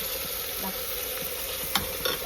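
Tomato, garlic and ginger paste frying in a hot pan, giving a steady close sizzle throughout with a few sharper splutters and faint stirring scrapes near the end.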